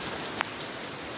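Monsoon rain in Karjat falls in a steady wash of drops close by, with one brief sharp tap partway through.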